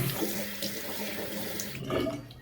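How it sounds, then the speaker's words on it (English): Running tap water splashes continuously into a sink while a razor is rinsed off, close by and fairly loud, with a brief shift in the flow near the end. "Wash it off. Wipe it clean."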